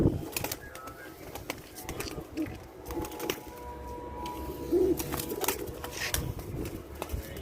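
Pigeons coo softly at a moderate distance amid faint indoor room noise and scattered clicks and rustles, the short cooing phrases rising now and then with no talk.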